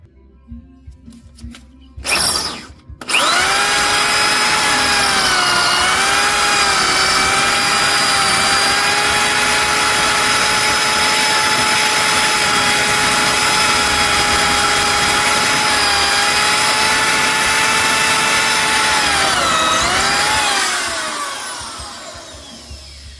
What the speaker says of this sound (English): all 4 rivets drilled through